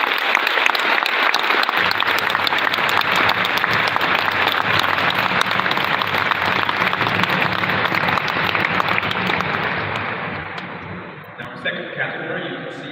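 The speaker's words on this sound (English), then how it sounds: "So please give another big round of applause for this year's." Audience at a women-in-law awards ceremony applauding in a loud, dense, sustained burst of clapping that fades out near the end.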